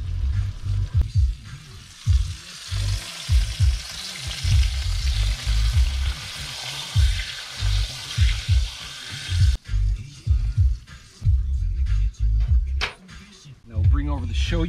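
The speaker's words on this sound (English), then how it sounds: "Got the Shoyu butter boiling. Got the fish there cooking." Akule fish fry in a pan next to a pot of boiling shoyu butter, cooked outdoors at Kehena Beach: a constant close sizzle and bubbling with someone talking over it in bursts.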